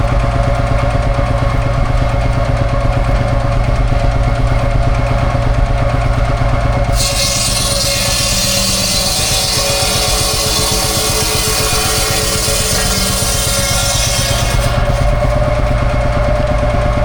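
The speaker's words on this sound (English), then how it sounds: "running the wood sawing is actually a Field Marshal diesel just over there" A vintage Field Marshal single-cylinder diesel engine drives a wood-sawing bench at a tractor festival, thumping steadily and loudly throughout, with a bright whine of the saw joining midway for several seconds.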